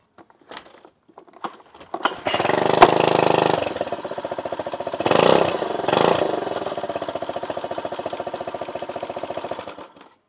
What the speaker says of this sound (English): This outboard is with air cooling, doesn't require seawater, so we can start it and we can see if it works.